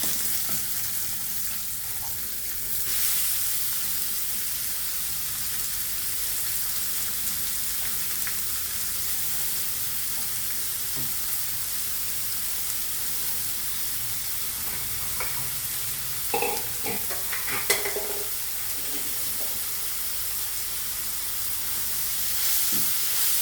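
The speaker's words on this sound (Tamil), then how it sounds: "சிறுகீரை இந்த வெங்காயம் பூரா போட்டு நல்லா வதக்கிக்கலாம்." Onions and small amaranth greens (sirukeerai) are sautéed in a pan with broken dried red chillies, giving a steady close sizzle with occasional stirring scrapes and no voices.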